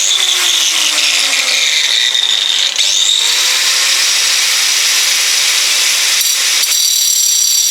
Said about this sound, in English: I'm going to grind that weld until we can get that E out of there